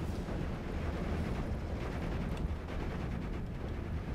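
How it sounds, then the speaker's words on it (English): Dense, continuous rumbling of an artillery barrage in the Normandy 1944 war game Steel Division, with overlapping distant explosions forming a steady roar and no voices. "He's going to get another couple shots off before the next TOT barrage comes in"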